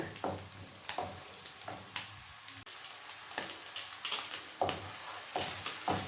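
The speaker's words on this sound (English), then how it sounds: "I will fry them a little bit" Steady close-up sizzling from sausages frying in a pan, broken by regular stirring scrapes and clinks.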